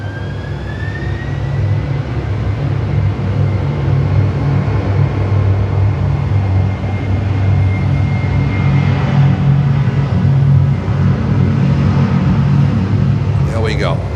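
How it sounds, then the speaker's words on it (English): Boeing 767-300 cargo jet on runway 27 at Miami airport, a loud, steady engine rumble with a high whine, heard from nearby. "cargo jet 767-300 lining up here on runway 27."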